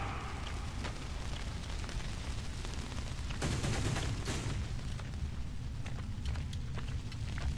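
In the video game Metro Exodus, a grenade goes off amid a continuous dense wash of battle noise, with a stronger swell in the middle and scattered sharp cracks throughout, fairly quiet overall.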